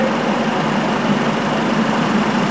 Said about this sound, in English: we're stuck in this taxi stand with 15 idling cars